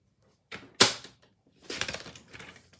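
Paper being trimmed for a handmade stamped card: a short scraping cut, a sharp louder slice, then a longer rustling stretch of cutting and handling paper, close and clear with no talk.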